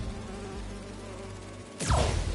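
Holographic bee wolves in a video game give off a steady insect-like buzzing drone, joined near the end by a sudden louder, broader burst of sound.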